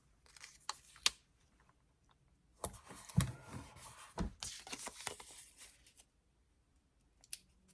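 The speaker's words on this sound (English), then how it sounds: "Sometimes getting the paper off the back is the hardest part." Paper backing peels off a Snoopy sticker in short crackling, tearing bursts, with quiet clicks and pauses between, close and soft in a quiet room.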